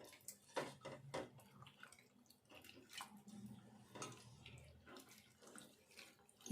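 Roasted red chillies are washed in water by hand in a kitchen, giving faint, soft splashing and sloshing close by with small irregular swishes.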